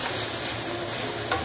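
Hokkien prawn noodles charring in a wok, a dense, steady, loud sizzle with stirring scrapes throughout and no voices.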